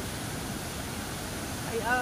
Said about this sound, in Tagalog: Ito yung Tinoyan Falls.